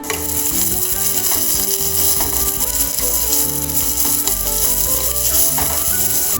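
Onion, garlic, ginger, slit green chillies and curry leaves sauté in a pan for a sardine masala, a steady close sizzle with scraping and clicking stirring throughout, no talk.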